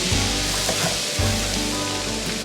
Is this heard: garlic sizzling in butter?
yes